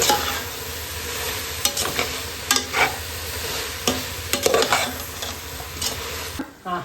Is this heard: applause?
no